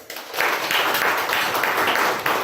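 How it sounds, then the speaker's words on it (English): A Toastmasters club audience claps together as part of a Simon-says style game, a steady, fairly dense patter of many hands lasting a couple of seconds with slight swells. "Mini says clap your hands"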